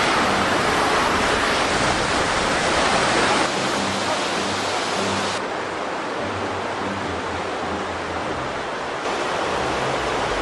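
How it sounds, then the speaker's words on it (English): A waterfall pours into a gorge below the city of Constantine, giving a dense, continuous roar of rushing water that stays loud and steady throughout with no voices. "I'm surprised that the waterfall is flowing so quickly"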